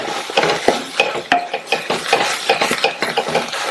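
Rice tossed with greens and salt in a pan, a spoon scraping and clinking against the metal in a steady, busy stirring rhythm, close and fairly loud with no voices.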